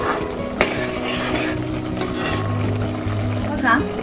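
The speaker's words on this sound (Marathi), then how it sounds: "आता चमच्याने हे सगळे पदार्थ चांगले मिक्स करून घेते" A spoon stirs salted basmati rice for traditional coconut rice in a pot, making close, steady scraping and shuffling sounds with occasional light clinks against the metal.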